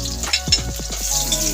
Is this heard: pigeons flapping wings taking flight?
no